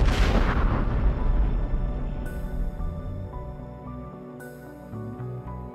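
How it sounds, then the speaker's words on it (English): Buried explosive remnants of war are blown up in a controlled demolition. A single deep, powerful boom opens and rolls off over a couple of seconds, then gives way to soft background music. "Everything is set up and ready to be detonated."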